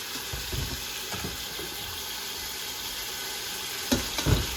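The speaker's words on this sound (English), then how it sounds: "So while my steak is searing" Steak searing in a pan gives a steady hiss of sizzling throughout, with a few soft clinks and bumps near the end and no talk.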